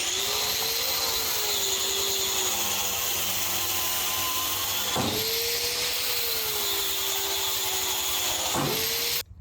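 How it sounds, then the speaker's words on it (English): A wire wheel on a power tool strips glued-on chunks of old weather stripping from the door of a 1950 Mercury rat-rod truck, giving a steady, loud whirring grind that holds for about nine seconds with brief pitch dips as it bites. "I like the wire wheel because if you're not pushing hard, it doesn't necessarily take the paint off"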